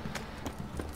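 Quick hoofbeats clip-clop in a brief, steady rhythm, moderately quiet, like a horse trotting along, in The Witcher 3 video game.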